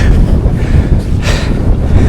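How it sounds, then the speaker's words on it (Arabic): Strong wind in an Austrian mountain valley buffets the microphone in a loud, continuous low rumble with gusty surges. "والله رجع صار الريح قوي مرة ثانية."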